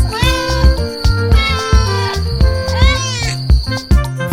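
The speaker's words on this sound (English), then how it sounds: "4 kittens" Kittens meow over a bouncy musical backing, several short rising cries spread across the clip, clear and fairly loud.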